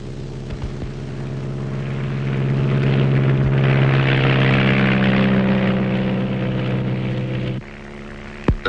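Two small propeller planes droning over rainforest, a steady loud engine hum with a swelling roar in the middle and a sudden drop in level near the end, heard alone without talk.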